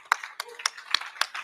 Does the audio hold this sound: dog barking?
no